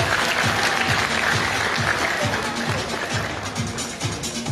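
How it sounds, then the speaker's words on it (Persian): Audience applause at a street entertainment act in Kabul, where a performer balances and spins glasses on his nose: steady, dense clapping that holds for several seconds, with a faint rhythmic thump underneath. "تشویق بفرمایید."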